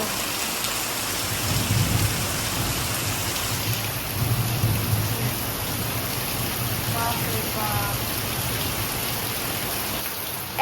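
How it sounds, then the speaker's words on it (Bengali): Heavy rain pours steadily onto surfaces during a thunderstorm, with low rumbling thunder rolling underneath throughout; a woman briefly exclaims over the downpour. "এত ঝড় বৃষ্টি হচ্ছে"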